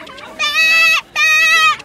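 Sheep bleat at a pen during a staged farm show, heard as two long, loud, close bleats separated by a short pause.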